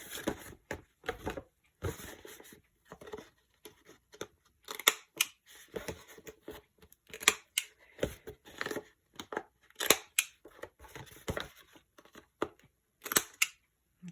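A corner rounder punches the corners of paper cut from a Daphne's Diary magazine, giving a long, irregular series of crisp clicks, snips and paper rustles close up, with no talking.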